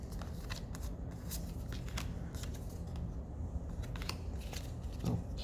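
Tarot cards being shuffled before a reading, a steady papery riffle and slide of cards up close, with a few sharper flicks and a soft thump near the end, no talking.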